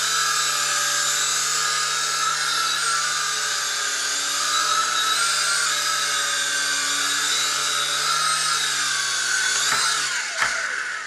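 A small coaxial RC helicopter spins up to about half throttle and lifts off, giving a steady high-pitched electric motor whine with layered tones. The pitch shifts slightly near the end, and a couple of sharp clicks follow.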